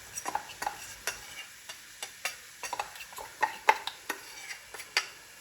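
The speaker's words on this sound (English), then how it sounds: "We've got our onions and garlic gently sauteing" Onions and garlic sauté gently in a pan for a vegan trofie dish, with a soft sizzle under repeated scrapes and clicks of a utensil stirring against the pan, close and fairly quiet.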